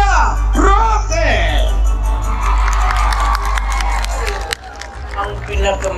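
Crowd at a presidential election grand rally in Isulan, Sultan Kudarat, cheering and whooping loudly under a booming amplified announcer's voice, with heavy low rumble from the PA throughout.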